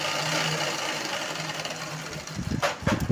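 A sewing machine stitches a long frock with a steady, close mechanical whirr, then shifts at the end into a few chunkier thumping strokes.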